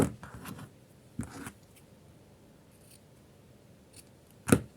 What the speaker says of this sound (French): On vient couper les 2 fils là.